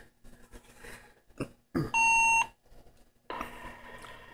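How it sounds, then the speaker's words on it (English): A Motorola MTS2000 800 MHz radio sends an MDC1200 ANI ID: a short burst of clicks followed by a clean, steady electronic data tone lasting about half a second, loud against faint background hiss. "That beep that you hear is the MDC1200 ANI ID."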